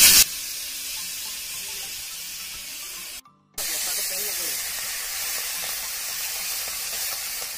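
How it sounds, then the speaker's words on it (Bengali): Fish coated in salt and turmeric frying in hot oil, a steady bright sizzle and hiss that continues throughout, with a brief drop near the middle before the spitting resumes. "তেল ইতিমধ্যে পকি জ্বলি গৈছে গতিকে মাছটো দি দিওঁ"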